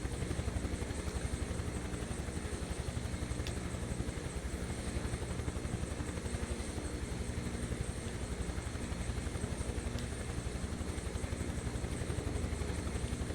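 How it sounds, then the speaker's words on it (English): A helicopter's rotor thumps in a steady, continuous drone with an engine whine in Microsoft Flight Simulator 2024, loud and unchanging throughout, with no voices. "Let's bring this helicopter down."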